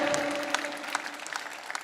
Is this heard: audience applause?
yes